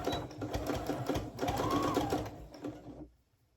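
A sewing machine stitches plaid fabric for men's pants in a rapid, steady mechanical run, close and clear, before stopping abruptly.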